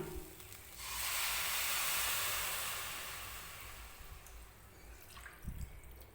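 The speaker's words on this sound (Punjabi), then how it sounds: "ਹੁਣ ਇਹਦੇ ਵਿੱਚ ਪਾ ਦਾਂਗੇ ਜੀ ਆਪਾਂ ਪਾਣੀ" Water poured into a hot pan of vermicelli and spices bursts into a loud hissing rush, then fades to a gentle simmer with a few faint clinks.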